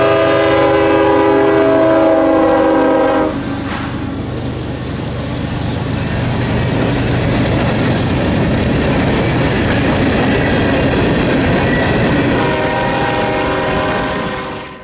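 CSX manifest freight Q442, running Tampa to Waycross on Florida's S-Line, rolls past loud and close: a harmonic horn blast opens, then steady wheel rumble and clatter of railcars continue to the end.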